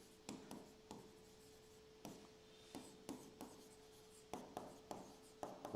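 Pen strokes writing names down, a series of quiet, close scratchy taps and short scribbles at irregular intervals, faint and without talk.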